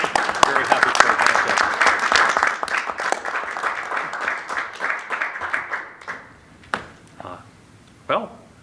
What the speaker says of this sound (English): are we allowed to do a little round of applause for that?